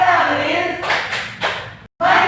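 In a third-grade classroom, a group claps a rhythmic PPK clap chant in short bursts while voices call out the chant, broken by a brief silence before the clapping and chanting resume.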